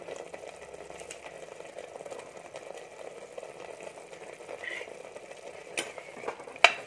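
A spoon scrapes and stirs as curry leaves, cumin and coriander stems are mixed into a country chicken curry. The scraping is soft and continuous with a faint frying sizzle, and a few sharper clinks come near the end.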